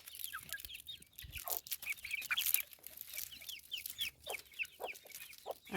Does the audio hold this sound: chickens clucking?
yes